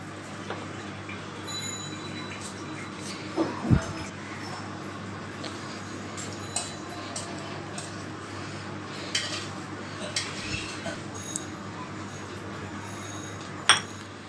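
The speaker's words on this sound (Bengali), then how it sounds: "এখন আমি অল্প অল্প করে এখানে ময়দার মিশ্রণটা দিয়ে দিব আর নেড়ে নেড়ে মিশিয়ে নিব।" A flour mixture being stirred into duck egg vanilla cake batter: sparse, light clinks of a spoon against the bowl over a low, steady background rumble.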